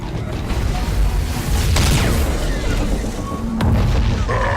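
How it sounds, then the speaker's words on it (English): A Nova Cannon fires in the space battle game Battlefleet Gothic Armada, a deep booming blast with mechanical creaks over dense rumbling combat noise, swelling twice. "I'm gonna actually try and use my Nova Cannon on this thing here."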